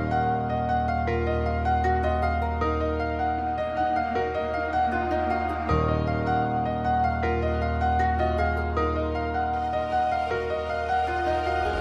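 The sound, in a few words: finished dark beat sample with piano, guitar, Arcade melodies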